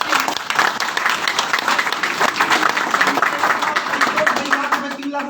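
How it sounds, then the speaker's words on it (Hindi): An audience in a hall gives loud, sustained applause for a presenter named Rajesh at a business plan seminar, dense clapping that holds steady and fades toward the end, with voices talking over it. "जोरदार तालियां हमारे राजेश करते हैं"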